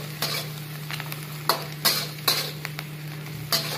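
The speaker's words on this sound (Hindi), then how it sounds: "शिमला मिर्च येलो और ग्रीन दोनों, इसको करेंगे मिक्स।" Yellow and green bell peppers are stir-fried in a pan, giving a soft continuous sizzle broken by several sharp scraping strokes of a spatula, close and without talk.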